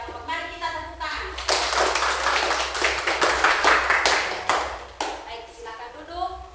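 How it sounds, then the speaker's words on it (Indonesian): A classroom of students breaks into a few seconds of lively group clapping after a group presentation. Voices are heard just before and after the applause. "Mari kita tepuk tangan."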